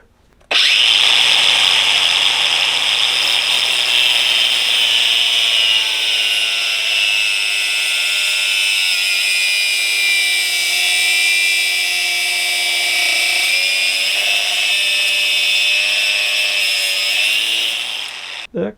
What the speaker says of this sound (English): I'm going to try cutting it with the grinder